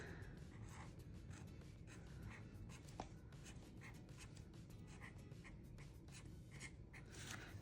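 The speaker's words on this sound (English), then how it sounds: "And then I could write our dinner plans next to each of these." A pen writes dinner plans on paper in a planner, producing faint repeated scratchy strokes in quick bursts across the whole stretch, quiet and close.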